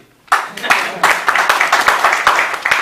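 After a brief quiet moment, a small audience at a product presentation breaks into loud, close clapping that holds steady to the end.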